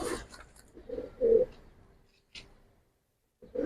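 Kaldom pigeons cooing close by, a few soft low coos with short gaps and one louder coo in the middle, with quiet stretches between calls.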